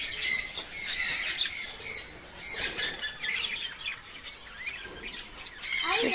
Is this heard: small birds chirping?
yes